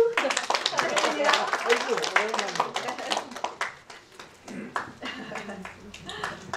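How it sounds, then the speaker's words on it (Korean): Audience applause and clapping greet a cultural lecture's comedic guest, dense and lively, then thinning into scattered claps as a voice begins speaking over it. "자, 박수. 부탁드립니다."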